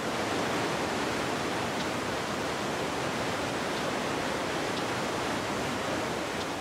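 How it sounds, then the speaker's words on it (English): The biggest waterfall in Southeast Asia, on the Mekong River in Laos, gives off a steady, dense roar of crashing water, unbroken and even throughout, with no voices. "The biggest waterfall in Southeast Asia."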